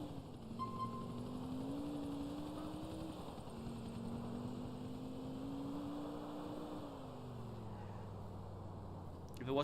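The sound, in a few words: helicopter flying in the video game GTA 4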